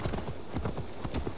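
Horse hooves clip-clop at a quick, regular gait in the video game Assassin's Creed Valhalla, a close, loud run of rhythmic thuds, alone.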